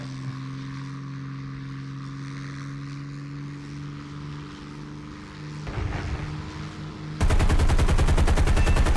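A P-40E-1 Kittyhawk in the War Thunder game dives on a biplane, its steady propeller engine drone building before a loud, rapid burst of machine-gun fire erupts near the end.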